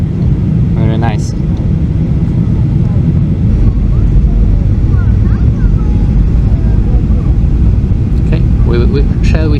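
Loud, steady roar of an OKAir passenger airplane touching down at Nanjing airport after a low approach over an artificial lake, broadband cabin and engine rumble filling the whole stretch with a few brief voices over it.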